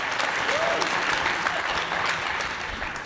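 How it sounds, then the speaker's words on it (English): Audience applause fills a congressional candidate debate hall, a steady, dense wash of clapping that stays loud and even throughout with no break. "Give them a nice round of applause."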